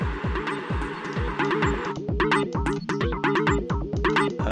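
An FM synthesizer with three oscillators plays repeating techno chord stabs in a tight rhythmic pattern, each hit trailing off into echo and reverb tails, up close and alone.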